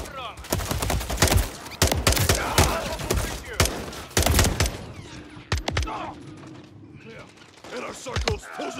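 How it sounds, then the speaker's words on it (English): Intense gunfire in the Call of Duty: Modern Warfare III campaign, rapid overlapping bursts of automatic shots and heavy thumps in a chaotic urban firefight, loud and close, easing off briefly before further scattered shots. "Return fire!"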